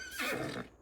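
A horse in Farming Simulator 25 gives a single short, clear whinny, close and alone.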